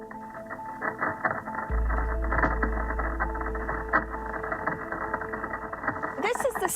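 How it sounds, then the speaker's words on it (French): Crackling radio bursts from lightning in a giant storm on Saturn, recorded by the Cassini spacecraft: dense irregular crackles and pops over a steady hum, with a low rumble entering partway through. "Ce crépitement provient des éclairs bleus de l'orage géant."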